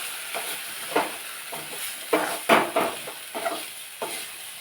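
Ground spinach paste for palak vadi sautés in a pan over low heat, a steady close sizzle broken by repeated scraping stirs of the spatula at an uneven pace.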